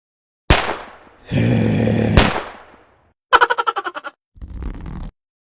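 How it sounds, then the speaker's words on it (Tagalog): Loud New Year firecracker blasts with a long crackling hiss, then a rapid popping string followed by another short fizzing burst, with silent gaps between. "Iba't ibang uri ng paputok."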